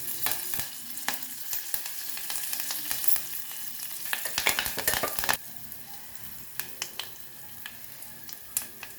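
Curry leaves crackle and spit in hot oil for buttermilk curry (majjiga charu), a dense close sizzle with sharp pops and utensil clicks, louder in the first half and then thinning to a steady fizz with scattered pops.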